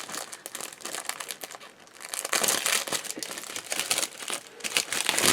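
A plastic bag from a 1/35 German 88mm Flak 36 model kit gets handled and opened up close, with continuous crinkling and rustling that swells louder partway through.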